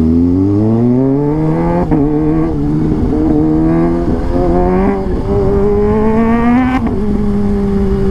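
Motorcycles pass continuously on a city road, engines loud and close with rising and falling revs and layered overlapping exhausts, no talking.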